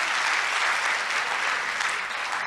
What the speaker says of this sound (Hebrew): כפיים, הגיע להם כפיים.